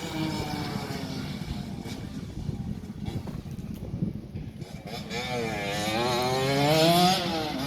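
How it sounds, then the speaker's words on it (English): Small light aeroplanes flying over the Stretton karting circuit on a sunny day, a propeller engine drone that rises and swells overhead toward the end, with a steady, fairly loud hum throughout. "you also get to see some cool little planes when you're at Stretton"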